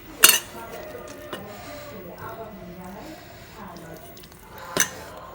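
Fried onion being worked by hand into mashed black cumin, giving soft squishy kneading sounds with a couple of sharp clinks of a dish or utensil, close and fairly quiet.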